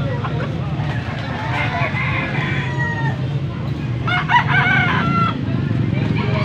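Rooster of a fine fighting-cock breed (talisayin type) crowing repeatedly and loudly nearby, with clucking from other fowl and a steady low background hum, in an outdoor rooster yard in the Philippines.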